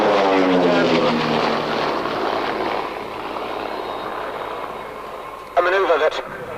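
Propeller aircraft flying in tight aerobatic formation through a horizontal 360 turn, a loud droning engine roar that sweeps and fades gradually, with someone commentating over it and a brief burst of noise near the end.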